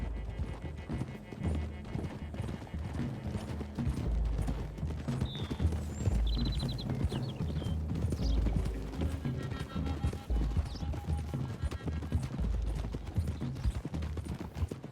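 Horses ridden at pace in the video game Red Dead Redemption 2, a dense, continuous patter of hooves with tack rattling, brief whinnies and a low rumble, steady throughout.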